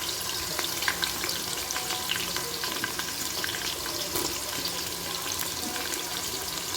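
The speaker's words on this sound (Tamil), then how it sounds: "இந்த ஸ்பைசஸையும் போட்டேன். நல்லா பொரியுது." Spices crackling in hot oil in a pan, a dense, continuous sizzle with scattered pops, close and steady throughout.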